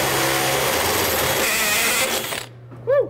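A power drill bores into the metal panel of a soda machine with a loud, close, grinding whine for about two seconds, then cuts out, leaving a brief chirp.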